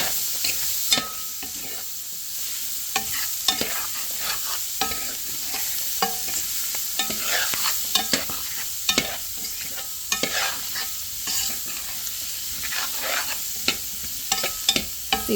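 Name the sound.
vegetables sizzling in hot gumbo roux, being stirred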